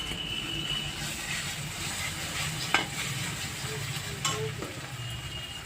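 Ginger, cumin and chilli paste fries in a pan, giving a steady moderate sizzle with a few soft clinks and stirring scrapes over it.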